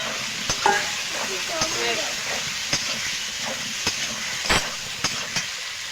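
Potatoes frying in a pan with ginger paste and spices for a fish curry, with a steady loud sizzle and hiss broken by regular clinks and scrapes of a spatula being stirred.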